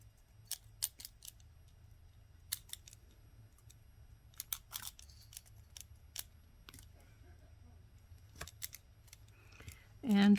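Scissors snip beading wire for handmade earrings in a series of short, crisp clicks spaced irregularly, close and quiet against a soft background hum, with a voice starting at the very end.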